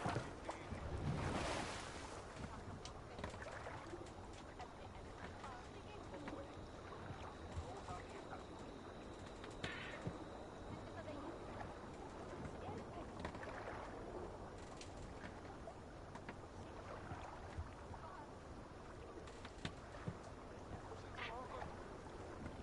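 Rowing a boat at sea in Assassin's Creed Valhalla: wash of waves and wind under a steady bed of water noise, with splashes and creaks at intervals and occasional voices.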